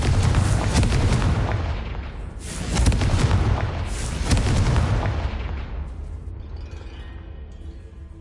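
Blasting explosions from the Confringo spell in Hogwarts Legacy roar in heavy, overlapping booms with crackling debris, fading toward a quieter rumble near the end.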